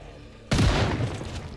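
A single sharp video game gunshot cracks out after a brief quiet stretch, its boom lingering and fading with a rumbling tail.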